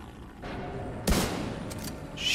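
Gunfire in the shooter The Division 2 at a space administration site: a single sharp shot stands out over steady battle noise, followed by fainter, distant pops.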